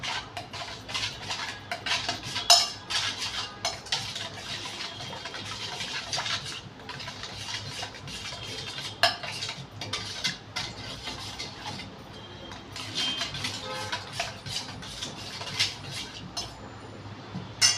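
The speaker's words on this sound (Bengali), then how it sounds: "ভালো করে মিশিয়ে নেব।" A spoon stirs yogurt raita with black pepper powder and other spices in a bowl. Close, steady scraping and clinking continue throughout with no talking.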